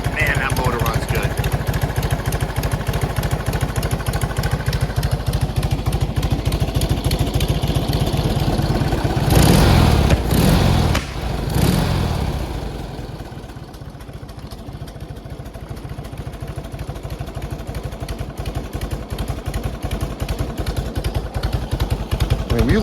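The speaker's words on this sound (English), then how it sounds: "Man, that motor runs good." An unrestored 1948 Indian Chief motorcycle with original paint, its engine running at a steady, close, throbbing idle with rhythmic mechanical clatter and a brief louder burst partway through, while people talk over it.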